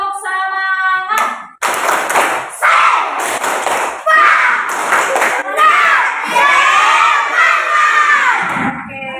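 Fourth-grade schoolchildren in an Indonesian primary classroom perform a spirit clapping chant: bursts of rhythmic group clapping and thumps alternate with loud shouted chanting voices, all close and energetic.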